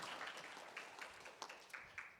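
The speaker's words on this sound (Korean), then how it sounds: "박수로 발표 청해 보도록 할게요" Audience applause at a fair-trade compliance symposium in Korea, a steady patter of clapping from a seated crowd, faint and distant, with a few sharper claps standing out near the end.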